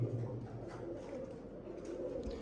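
Low, soft cooing of racing pigeons, repeated murmuring calls over a faint background hum.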